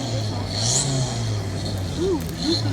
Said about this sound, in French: numéro 69, sur cette Peugeot 106 XSI dans la classe F 2002